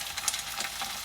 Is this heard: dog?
no